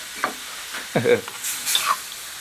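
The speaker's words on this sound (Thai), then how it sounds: "เริ่มเดือดแล้ว" Large eel pieces with vegetables cooking in a pan over heat, giving a soft, steady bubbling sizzle with a few sharp clinks and scrapes of stirring on top.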